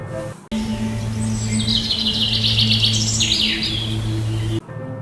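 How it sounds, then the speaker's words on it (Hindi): Birds in a quiet forest chirp and trill continuously over a low steady hum, the calls bright and close. The sound cuts in and out abruptly at both ends, and no one speaks. "कि एक शांत सा जंगल"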